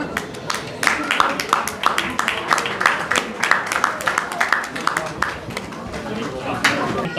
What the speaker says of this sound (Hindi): ताली है आपकी